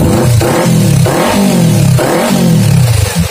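A Kawasaki Ninja 250 FI motorcycle with a leaking water-pump coolant hose is revved up close, its engine rising and falling in several repeated throttle blips over a loud, steady running rumble.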